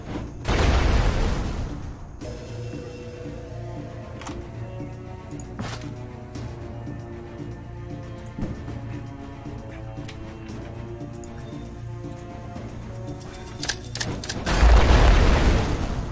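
Frag grenades explode in the strategy game Age of Wonders: Planetfall: one deep boom opens, a quieter stretch of crackle and small pops follows, and a second heavy blast lands near the end.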